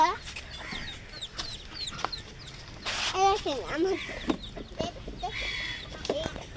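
Backyard chickens clucking in short bursts, with a rooster-like call mixed in, heard under and between a person talking nearby.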